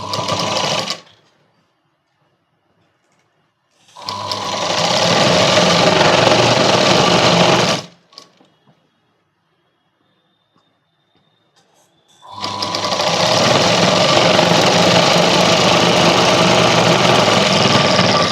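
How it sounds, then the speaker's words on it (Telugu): A sewing machine stitches a child's night dress in two long loud bursts of rapid mechanical whirring, separated by quiet pauses, with no talk over it. "ఇటు సైడ్ కింద కూడా ఈ విధంగా మలిచి కుట్లు వేసుకుంటున్నా"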